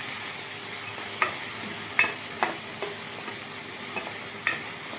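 Vegetables with turmeric, chili powder and sambar powder sizzle steadily in a pan, a soft continuous fry punctuated by several crisp scrapes of the stirring spoon, close and moderately quiet with no talking.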